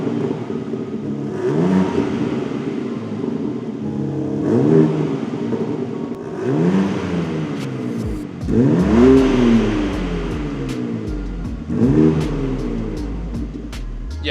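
A stock BMW M4 engine revs several times in a row, each blip swelling and falling back to a rough idle, close and fairly loud with no talking over it.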